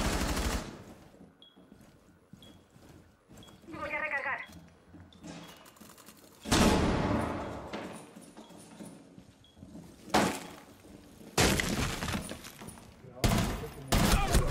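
Rainbow Six Siege ranked-match gunfire comes in several loud, rapid bursts separated by quieter stretches, with voices talking in between.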